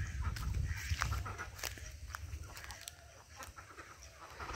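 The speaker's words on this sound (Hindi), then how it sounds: "ये हैं सारे बत्तख" A flock of ducks at a village farm near a river calls in repeated short quacks and clucks over a constant low rumble of outdoor background noise.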